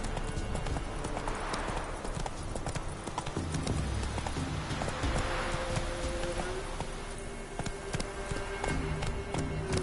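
Roach the horse gallops in The Witcher 3, with a steady, loud clip-clop of hooves pounding continuously over game music and ambience.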